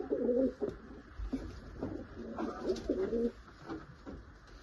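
Pigeons coo close by in soft, repeated throaty phrases, several bursts in a few seconds against a quiet background.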